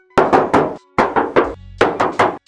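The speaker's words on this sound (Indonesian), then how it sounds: "Coba aku tes ketok ya." Three quick bursts of knocking on the hood of a 2014 Honda CR-V 2.4, each a cluster of three or four hollow metallic raps on thin sheet metal, close and sharp.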